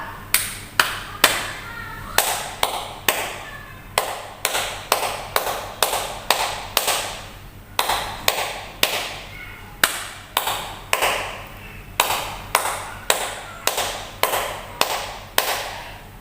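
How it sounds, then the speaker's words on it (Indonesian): A teacher demonstrates the Indonesian scout clap pattern (tepuk pramuka): crisp, close hand claps in quick rhythmic clusters separated by short pauses, repeating steadily throughout with no talking. "Nah, seperti itu tepuk pramuka."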